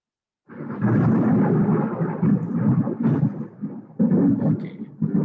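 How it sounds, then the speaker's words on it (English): Loud, continuous thunder rumbles through a thunderstorm, with a deep rolling roar that swells and dips and surges again near the end. No one speaks. "It's a bit of thunder and lighting over here."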